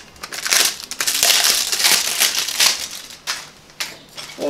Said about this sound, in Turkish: Şöyle hemen pedalları açalım.